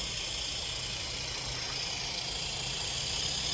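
A Panasonic inverter air conditioner compressor motor running at high RPM, a steady close hum with a broad hissing whir that holds constant throughout.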